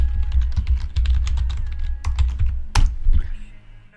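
Rapid clicking of computer keyboard keys as a bash command is typed, close and fairly loud with a sharp key strike near the end and no speech.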